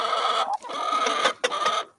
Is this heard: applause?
no